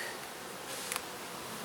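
Honey bees buzzing during a backyard hive inspection, a steady faint hum close by with a brief rustle partway through, no talking.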